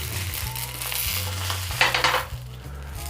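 Bratwurst sausages sizzle in a pan, a soft, steady frying hiss with a brief louder burst of crackle midway, moderately quiet and close, with no voices.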